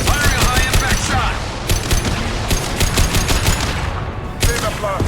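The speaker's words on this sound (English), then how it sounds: "Firing a high-impact shot!" High-impact gunfire from Mass Effect 2 crackles in rapid bursts, a dense fusillade of loud sharp shots with brief pauses, over a constant roar of battle.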